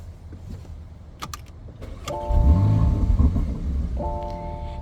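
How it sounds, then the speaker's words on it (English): A 2023 Porsche Macan S engine cranks briefly and catches at about two seconds, then settles into a loud, steady low rumble while a faint chime sounds twice. "I'm going to be quiet so you can hear this engine when I crank it"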